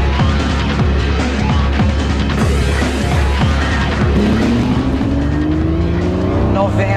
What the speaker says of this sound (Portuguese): Acelerar um carro tão forte mexe com todos os sentidos.